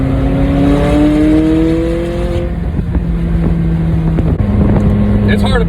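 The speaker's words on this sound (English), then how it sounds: "Just listen to the exhaust." A McLaren 600LT Spider's exhaust roars while driving, rising through revs with a sharp tonal sweep, then dropping and climbing again, loud and close with wind buffeting throughout.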